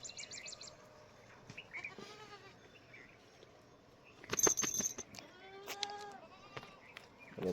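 A goat that has just given birth in a shed bleats several times, fairly faint and spaced apart, with a few sharp knocks and other small farm-animal cries between the calls.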